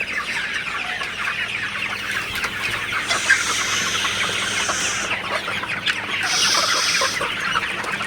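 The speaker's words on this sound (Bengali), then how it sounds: "আপনারা দেখতে পাচ্ছেন আমার শেডে তো এখানে পনেরোশো মুরগি আছে সোনালি" About fifteen hundred Sonali super hybrid chickens cluck and murmur together in a poultry shed, a continuous crowded flock chatter with a few louder calls rising over it.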